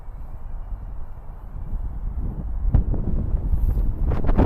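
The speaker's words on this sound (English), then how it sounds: "It's a little windy out." Wind buffets the microphone in a low, rumbling rush that swells and gusts louder toward the end.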